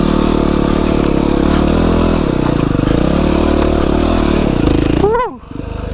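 A Yamaha WR250R motorcycle engine drones loud and steady while riding, with a sharp rev shift and clatter near the end.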